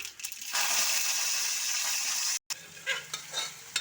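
Mustard seeds and curry leaves crackle and sizzle in hot oil for a Kerala-style tempering, a loud, dense frying hiss that cuts out for a moment and then returns with popping bursts.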